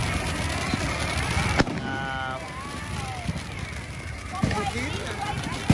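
Backyard Fourth of July 2024 fireworks in America, a long fizzing, hissing spray with a couple of sharp cracks, while people talk and laugh close by throughout.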